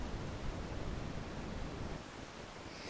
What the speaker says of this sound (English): Voice of the Starship did a thing where you had a continuous noise going on